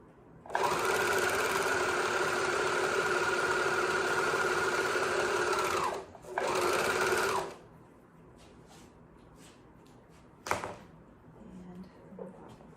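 A sewing machine stitches a baby bummy waistband in a loud, steady run of close whirring for several seconds, a short pause, another burst, then quiet with a few faint clicks and handling noises.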